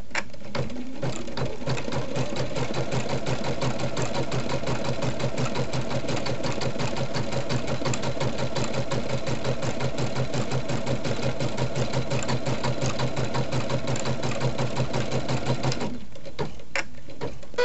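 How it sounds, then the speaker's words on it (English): A sewing machine runs steadily for about sixteen seconds, stitching a dense satin stitch around the edge of a fabric appliqué heart, with a fast even mechanical whirr and patter before it stops. "The third stitch is the satin stitch that goes around the outside of the main heart."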